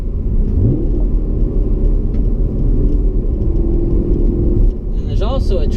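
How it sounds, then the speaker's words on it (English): A 2016 Chevrolet Camaro SS with a dual-mode sport exhaust, baffles open, gives off a continuous deep rumble while driving, running under a voice talking throughout. "which opens the baffles in the dual mode sport exhaust that this car has"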